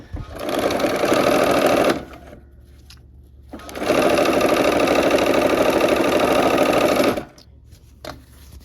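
A sewing machine stitches quilt block pieces for a Christmas block-of-the-month quilt, two loud close steady runs of rapid whirring each lasting a few seconds, separated by quiet pauses with a brief click.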